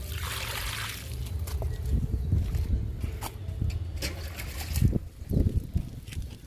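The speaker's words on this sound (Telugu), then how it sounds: "మొక్కలన్నిటికీ వాటర్ ఇచ్చేటప్పటికి గంట టైం పడుతుందండి" Water splashing and trickling onto garden plants and soil, a steady pour with uneven gushes, fairly close, with rustling and some low rumble.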